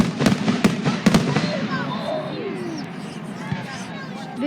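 Fireworks going off outdoors in a quick rapid-fire volley, several sharp loud bangs at the start followed by crackling and whistling bursts, with a crowd chattering and voices reacting throughout.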